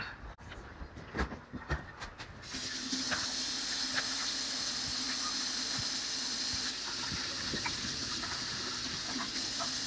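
A tap running steadily as hands are washed in a home kitchen: a few scattered knocks and clatters come first, then a continuous close hiss of flowing water that lasts to the end.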